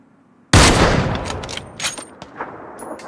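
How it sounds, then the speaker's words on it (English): A sudden loud burst of enemy gunfire in a video game with a Mosin-Nagant rifle, followed by a decaying rumble and a few fainter distant cracks. "they're shooting at me now"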